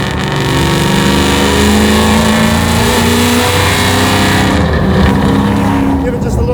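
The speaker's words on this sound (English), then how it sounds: "it starts pulling really down low, doesn't it?" A 1000-horsepower Cobra with a Whipple-supercharged Terminator engine revs hard and close, its deep roar rising and holding in strong surges while people talk over it.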